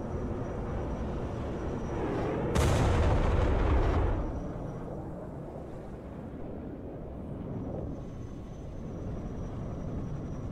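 A rocket artillery salvo in Broken Arrow launches as a loud rushing roar for about a second and a half, then fades into a low rumbling battlefield ambience.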